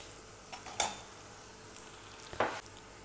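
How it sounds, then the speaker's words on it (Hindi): Chicken pieces going into a pan of lightly fried, translucent onions for chicken karela, giving a faint steady sizzle with two brief scraping stirs, quiet and close, with no talking. "अभी मैं इसमें चिकन ऐड करने लगी हूँ"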